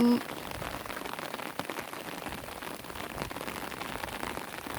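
Steady rain falls on a house on an overcast, thunderless day, a dense even patter of drops on surfaces that continues without break, close and moderately loud.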